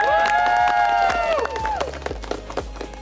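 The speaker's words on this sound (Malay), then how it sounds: "Berikan tepukan." Audience applause on a television show as ten entrepreneurs are announced, a burst of crowd clapping under sustained musical tones and loud rhythmic percussion hits.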